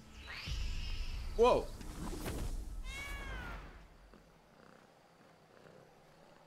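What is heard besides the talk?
cat meowing and purring in video game Blacktail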